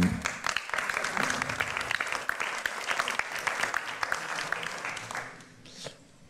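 Close, lively applause from the audience at a round table of representatives and institutional figures, made up of many crisp individual claps that continue for several seconds before thinning out and fading near the end.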